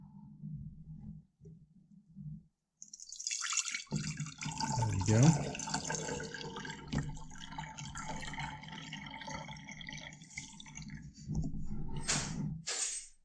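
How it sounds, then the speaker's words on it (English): Water pours and splashes over a net cup into a hydroponic container for a lemon tree, a steady trickling stream lasting several seconds, with a person speaking briefly before and during. "we're actually just going to pour it right over the net cup to make it nice and easy there"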